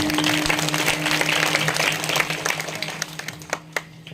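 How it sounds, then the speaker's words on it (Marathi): An audience at a devotional kirtan gathering claps together, a dense burst of applause at moderate loudness that thins into a few scattered claps toward the end, with a steady hum underneath. "सगळ्यांनी जोरदार टाळी वाजवायला."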